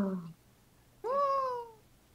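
A cat gives a single clear meow, rising then falling over about a second, heard after a brief burst of other sound in a quiet room.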